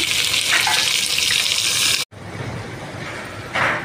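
Cut drumstick pieces dropped into hot oil in a pan for drumstick sambar, giving a steady loud sizzle that cuts out briefly midway and resumes, with a brighter hiss swelling near the end; no one speaks.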